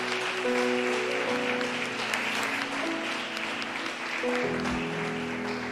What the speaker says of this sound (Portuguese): Você pode dar um forte aplauso ao Senhor por isso que você acabou de ouvir.